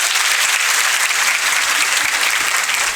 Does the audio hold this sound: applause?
yes